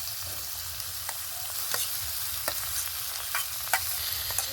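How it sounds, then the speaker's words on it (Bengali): Grated vegetables with spring onion, chopped tomato and coriander are stirred in a hot pan, giving a constant sizzle broken by scattered spatula scrapes and taps up close. "এবারে সমস্ত সবজিগুলো একটু নেড়ে চেড়ে নেব ভালো করে।"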